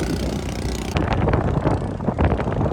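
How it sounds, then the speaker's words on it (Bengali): Strong storm wind buffets the microphone close up in Vrindavan, a broad continuous roar with surging gusts beside water where a boat has broken loose. "দেখুন হাওয়াতে কিভাবে তোড় উঠছে দেখুন"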